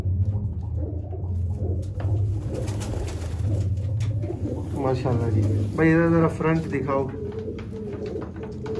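Ali wala pigeons coo under steady talk from a man close by, with a low hum running underneath the whole time and a clearer burst of cooing toward the end.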